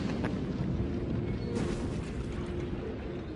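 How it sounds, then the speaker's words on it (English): Chain gun fire and explosions in the PS Vita game Resistance Burning Skies, a dense continuous roar of gunfire and booms with a sharp burst midway, steady and loud throughout. "we're going to use the power of the chain gun after we reload it and see if we can take out that emplacement"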